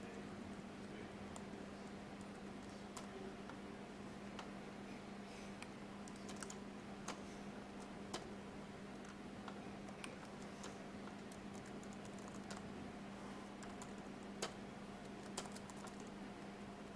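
Typing on a computer keyboard in a quiet room, faint scattered key clicks at an uneven pace over a steady low electrical hum.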